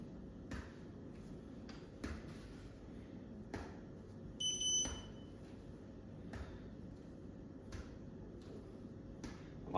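Electronic beeper sounding repeatedly during a hip exercise program, with short faint beeps spaced a couple of seconds apart and one brief higher tone over a steady low hum.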